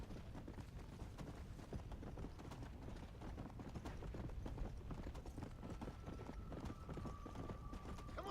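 A stark white horse with a horn trots in Red Dead Redemption: Undead Nightmare, its hooves clip-clopping in a steady, continuous rhythm at moderate volume, with a faint sustained tone entering partway through.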